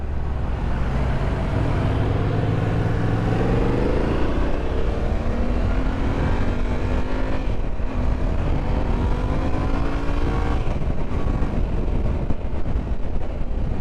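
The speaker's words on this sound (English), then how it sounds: "We're on the T7, Tenere 700." A Yamaha Tenere 700 adventure motorcycle is test-ridden at a demo day, its engine droning loudly and continuously as the pitch repeatedly climbs through the gears, with no voices.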